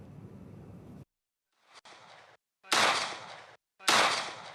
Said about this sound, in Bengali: মুহুমুহু গুলির শব্দ